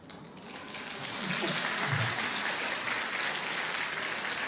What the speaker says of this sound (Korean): 왜 갑자기 또 박수를?